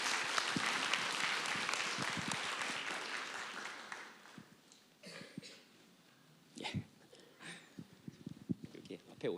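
A church congregation applauds to welcome a newly registered family during a Sunday worship service, with dense clapping for about four seconds that fades into scattered claps, murmurs and talk.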